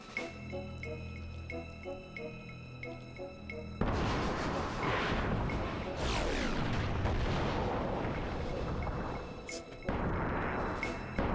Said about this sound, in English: I like that the chimney gets turned into a cannon.